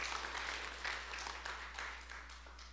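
A church congregation applauds in praise, dense and fairly soft clapping that rises in bursts and holds steady, with a constant low electrical hum beneath it.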